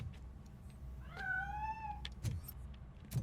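A cat in the video game RoboCop: Rogue City gives one clear, drawn-out meow over a low engine-like background hum, followed by a couple of short thuds.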